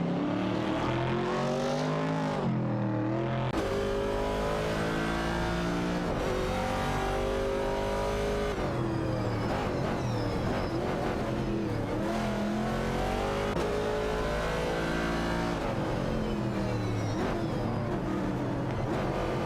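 Race cars in a video game, a Chevrolet Camaro 70 and a Ford Falcon, with engines roaring continuously and loudly, revs rising and falling as they shift gears, with a dense layered drone throughout.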